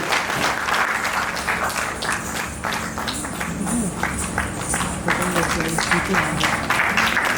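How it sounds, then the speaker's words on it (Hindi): An audience applauds steadily at a stage event where artists are receiving certificates, dense clapping running throughout with voices talking over it. "आपकी तालियां इनके उत्साह में होती रहनी चाहिए।"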